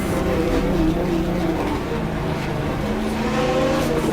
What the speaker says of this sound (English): Very loud car.